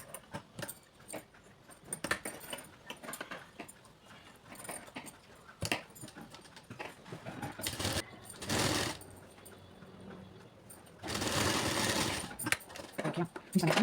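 A domestic sewing machine runs in short bursts and longer steady whirring runs while stitching a churidar neckline, close and loud, with someone talking between bursts.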